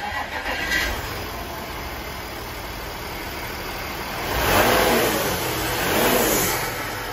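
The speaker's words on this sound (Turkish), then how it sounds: "Şimdi ilk marşı sizlerle yapacağız." An Audi Q5 3.0 TDI V6 diesel starts for the first time after repair, cranking then settling into a steady idle with two swelling revs, heard from nearby alone.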